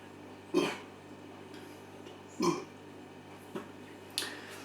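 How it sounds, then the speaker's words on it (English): Burps after a swig of Victory Storm King Stout, a dark, bitter American craft beer, come as four short bursts spread across a few seconds, the first two louder and the last two smaller, with no talking. "Just bringing the burps up helps bring back some of them flavours that you've just tasted."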